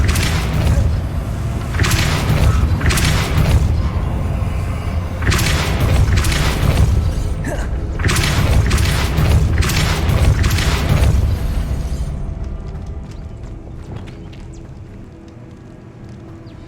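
Depulso force-push spell effect from the Hogwarts Legacy video game, a series of loud booming whooshes and impact thumps in close succession that fade into quieter game ambience.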